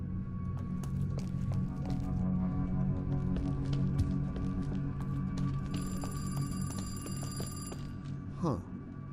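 A telephone rings in a survival horror indie game, its repeated bell tones sitting over a dense, low-pitched ambient game soundscape, with a short sliding sound near the end.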